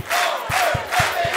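A large crowd of over 500 political supporters in a Pointe-aux-Trembles school gymnasium roars and chants in rising swells, with rhythmic thumps of clapping or stamping under the loud, close mass of voices.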